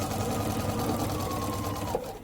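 Sewing machine running steadily as it stitches down the center of a length of tape on a quilt panel, a continuous close mechanical whir holding for the whole stretch before easing off near the end.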